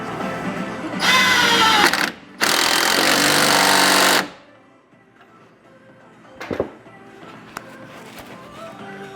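An impact wrench with a 17 mm socket rattles in two loud, close bursts during an axle install, followed by quieter clanks and tool handling.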